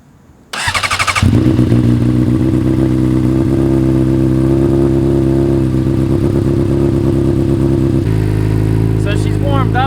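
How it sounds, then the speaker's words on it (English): A 2007 Honda CBR600RR with a Toce performance exhaust fires up after a brief starter crank, then settles into a loud, steady, rumbling idle close by, with a short blip near the end. "let's give a little startup of the bike, let it get warmed up, and do a little sound test"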